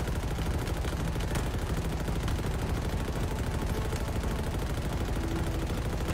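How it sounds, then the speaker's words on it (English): Rapid automatic gunfire shooting at enemies in a Halo campaign on legendary difficulty, a dense unbroken rattle of shots that runs without pause at a fairly close, steady level, with no talking. "let me shoot some enemies real quick"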